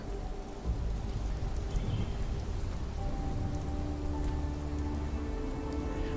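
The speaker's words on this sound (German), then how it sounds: "Es regnet." Rain pours steadily in the game Fallout 76, a constant soft hiss of drops with faint low rumbling beneath, heard alone without talk.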